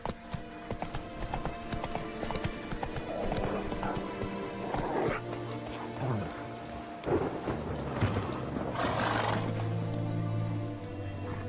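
Roach, Geralt's horse in The Witcher 3: Wild Hunt, gallops with steady clip-clop hoofbeats and lets out a couple of whinnies over game music and ambient rumble, with a voice speaking briefly.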